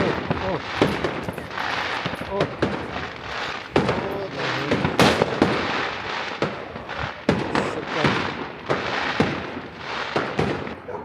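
Fireworks crackle and bang repeatedly in irregular bursts at New Year's in Argentina, some sharp and close, others softer and distant, with voices talking over them.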